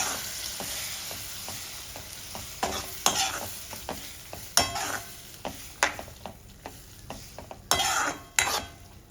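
Dal being stirred and mixed in a pan over a soft sizzle, with repeated rhythmic scraping strokes of a spoon against the metal that grow sharper and louder toward the end.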